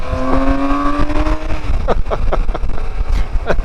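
A BMW K1600 GT motorcycle engine pulls hard from idle on a mountain pass road, its steady tone rising loud and close before breaking into rougher bursts of revving.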